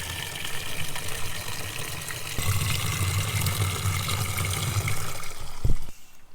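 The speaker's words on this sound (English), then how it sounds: "Good pressure, the water feels cold, and Nick just pointed out" Water gushes under good pressure from a tap at a service station in central Spain, a steady close splashing rush that shifts partway through before cutting off near the end.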